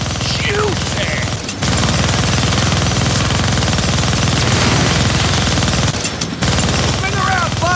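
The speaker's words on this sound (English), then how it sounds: "Gonna need both hands to shoot that minigun" A minigun in the Deadpool video game fires continuously at close range, a loud, dense, unbroken rattle with two brief pauses, while a voice chatters over it.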